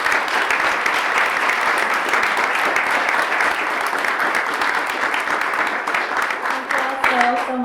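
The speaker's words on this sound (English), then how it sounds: "Maybe we can do a final clap for everyone attending." Sustained round of applause from a gathered audience at a community event, steady dense clapping throughout with a few tonal notes near the end.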